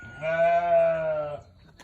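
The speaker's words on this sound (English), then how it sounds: "That's the goat that thinks she's a sheep." A goat gives one clear, drawn-out bleat close by, wavering and nasal, lasting about a second before it stops.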